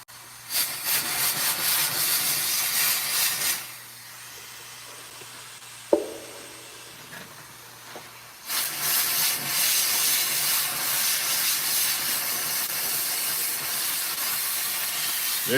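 Loud jets of steam from a steam cleaner cleaning an old coin ring hiss in two long bursts, separated by a quieter pause with a low hum and a brief clink, close to the listener.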